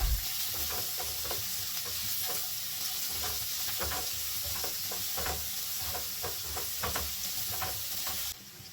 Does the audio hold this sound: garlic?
yes